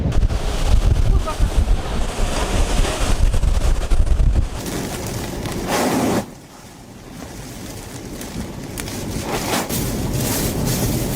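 Strong wind buffets the microphone while Hurricane Helene's storm surge churns and crashes nearby at Cedar Key, a loud continuous roar that briefly drops before building again.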